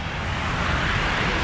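Water gushing from a loose fire hydrant on a city street in Grand Theft Auto, a steady, loud broadband rush of spray and splashing with no pauses, close by and heard alone.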